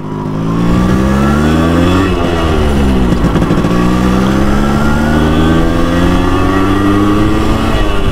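A Yamaha RX 100 motorcycle engine revs and accelerates loudly during a ride, its pitch rising through the gears with a brief shift dip, heard close and continuous.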